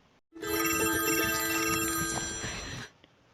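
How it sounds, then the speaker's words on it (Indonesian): A mobile phone rings loudly and continuously for about two and a half seconds, a bright electronic ringtone that starts and stops abruptly against near silence, with no voices. "penghuni rumah dikagetkan dengan suara HP dari perut seorang gadis tersebut yang sudah diikat sebelumnya"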